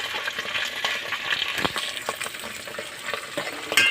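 Sardines stirring and sautéing in a hot pan give a steady close sizzle, with scraping stir strokes and light metallic clinks scattered across it.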